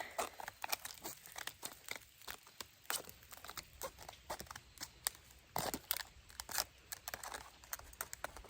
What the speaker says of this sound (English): No knife, but I've got some Rapala scissors. So, saves the day.